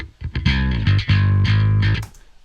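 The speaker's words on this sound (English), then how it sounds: "this gives it all that amp, you know, distortion" A bass guitar played through a distorted amp tone in a drum-and-bass track breakdown: a few thick, gritty sustained notes in quick succession, loud and close, with no talking.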